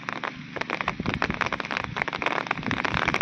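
Steady rain falls over Konkan paddy fields during traditional rice sowing with bullocks, a dense, close patter that holds at an even loudness and builds slightly toward the end.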